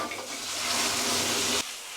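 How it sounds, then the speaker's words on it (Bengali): Boiled lentils go into hot oil with fried ginger and cumin, setting off a loud, close sizzling hiss that swells and then cuts off abruptly. "এখন এই সিদ্ধ করার ডাল দিয়ে দেবো"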